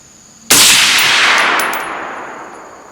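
A single loud gunshot from a 6.5 Creedmoor Night Stalker precision AR-10 rifle at a range, a sharp close crack followed by a long ringing decay, with no speech.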